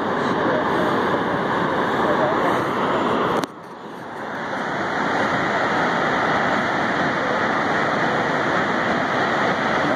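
Shoshone Falls in Idaho, a dense, steady roar of falling water heard from a viewpoint, with a brief dip near the start as wind buffets the microphone.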